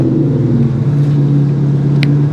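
A Proton Saga engine with a straight pipe exhaust rumbles steadily and loudly close by, holding a low, even drone with no clear rev rise.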